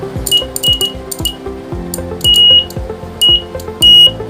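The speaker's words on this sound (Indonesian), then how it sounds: "dapat dilihat jika dekat maka buzzer berbunyi." An electronic buzzer in a homemade alarm circuit, triggered as copper and iron pieces are brought near a sensor, beeps loudly in repeated short and longer bursts over a background of metallic clicks and tonal ringing.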